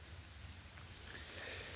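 Faint, steady hiss of rain falling in a Missouri garden, heard from shelter beneath a pear tree, a soft continuous patter with no voices.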